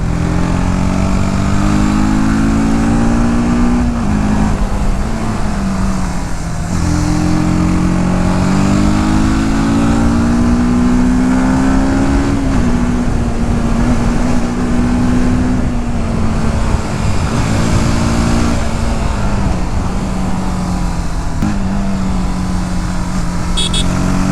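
Engine of a TVS Apache RTR 310 motorcycle drones steadily and loud throughout, pitch rising and falling with repeated revving swells over continuous close road and wind noise, with no talking.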